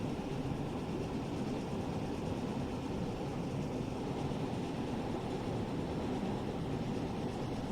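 Jubilee steam locomotive coasting on a West Cornwall local in Train Sim World 4, a steady rolling rumble of wheels and carriages with no chuffing, constant and moderately loud throughout.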